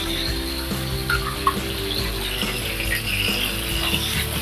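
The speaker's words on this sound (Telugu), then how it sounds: "ఈ ములక్కాల్లో మనము లైట్గా వేపుకోవాలండి" Pieces of moringa drumstick fry in three spoons of oil in a pan with a steady, close sizzle and a few light clinks as they are stirred, with no talking.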